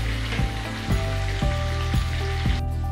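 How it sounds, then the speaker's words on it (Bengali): Pieces of aar fish fry in oil over a low gas flame for fish kalia, a soft continuous sizzle marked by regular dull knocks about every half second. "গ্যাসের ফ্লেম কিন্তু এই সময় লোতে রেখেই আমি মাছটা ভাজছি"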